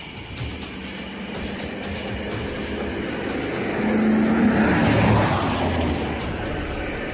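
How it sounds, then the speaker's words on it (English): A vehicle engine rumbles nearby, growing louder as it approaches and passes, then slowly fades, over a constant low traffic drone. "The sound of an approaching engine turns out to be nothing more than oncoming traffic."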